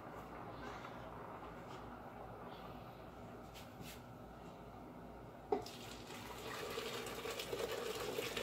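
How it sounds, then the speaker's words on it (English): Boiled pinto beans and their hot cooking water pour from a stovetop pot into a crock pot. A soft, steady watery rush is followed by a clunk, and the pouring turns louder and splashier toward the end. "I'm going to take them directly off the stove and pour them in my crock pot."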